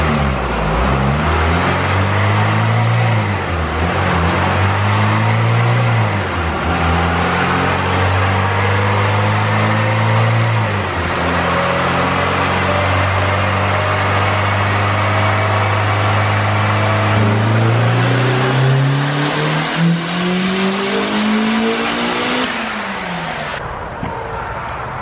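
A turbocharged Honda B18C GSR engine revs hard under boost, its loud, continuous drone rising and falling through several pulls before climbing steadily and cutting off near the end, with no talking over it.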